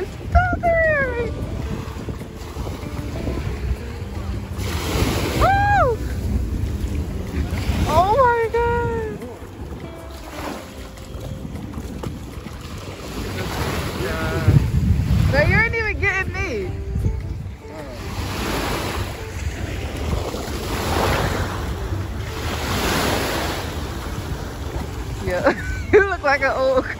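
Steady wind and rolling surf roar throughout on a beach in Miami as thunder sounds, waves washing in continuously, with voices talking over the noise at times.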